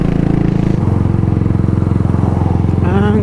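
Motorstar Cafe 400 motorcycle engine idling steadily and close by on a Baguio ride, with a lumpy, even exhaust pulse that holds throughout and a brief higher revving tone near the end.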